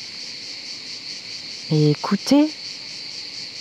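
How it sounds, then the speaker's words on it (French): Crickets chirping in outdoor ambience during a guided meditation, a steady high trill running throughout while a voice speaks briefly partway through. "le chant des grillons, les bruits ambiants"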